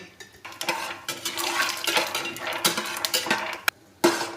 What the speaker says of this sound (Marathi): सगळे भाजून घ्यायचे अशा प्रकारे थोडे थोडे तेल टाकून खरपूस असे भाजून घ्यायचे